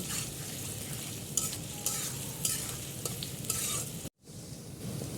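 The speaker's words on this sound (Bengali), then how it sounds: "পেঁয়াজগুলো ভালো করে বেজে নিব" Onions sizzle and crackle in a hot pan while being stirred, with several sharp scrapes of the utensil across the pan over a steady frying hiss and a brief break near the end.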